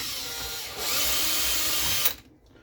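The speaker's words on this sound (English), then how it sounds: "drill through there" A power drill whines and bites through a plastic part of a Traxxas XRT RC truck, rising in pitch after a moment, then stops abruptly, leaving near silence.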